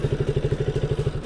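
A KTM Duke 390 single-cylinder engine idles close by in neutral with a fault, giving a loud, rhythmic, pulsing thump that runs steadily throughout with no talk.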